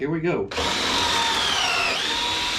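A power drill with a collared bit boring a hole at its second speed setting while building cabinets for a converted school bus; a short spoken phrase comes first, then a loud, steady, close whine that sags slightly in pitch near the end.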